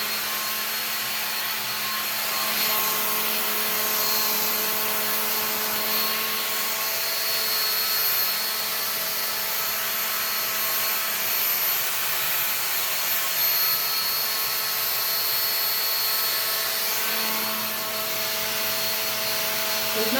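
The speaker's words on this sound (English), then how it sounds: "And then I will use my super old blow dryer." An old hair blow dryer runs steadily at close range through the whole stretch, a constant loud airy whir with no pauses and no talking.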